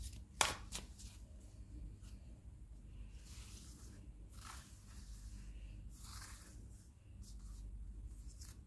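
Playing cards riffled and shuffled by hand for a tarot-style card reading, a sharp snap near the start followed by repeated soft papery bursts of shuffling, close and fairly quiet over a low background hum.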